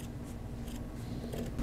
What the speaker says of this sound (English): we're simply going to just take our scissors and trim